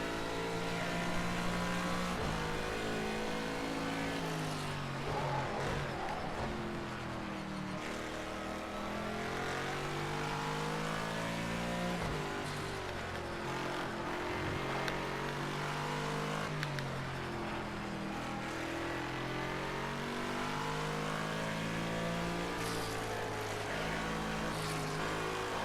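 Car engine in a racing video game as the driver lifts off the throttle, with a continuous loud tonal engine note that rises and falls steadily throughout.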